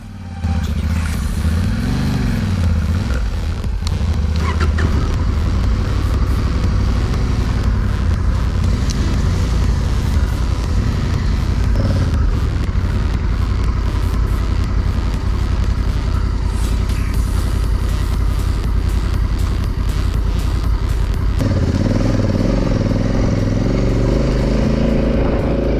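Honda CRF1100 motorcycle ridden off-road on a trail with its electronic aids switched off drones loudly and continuously, engine tone shifting with throttle and gear over constant wind and clatter.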